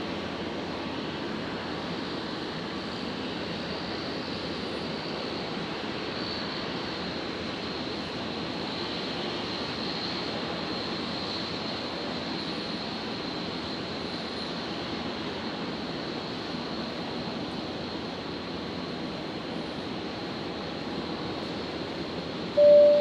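Emirates flight 435 jet taking off from runway 19 left at Brisbane airport at night, a steady distant roar of engines holding at a constant level with a broad rushing hiss and no talk.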